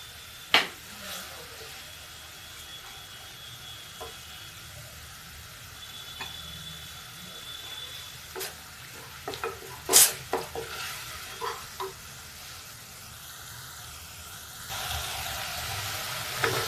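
Quiet, steady sizzling of onion, ginger and garlic frying in a pan, with occasional stirring scrapes and light clinks of utensils against the pot.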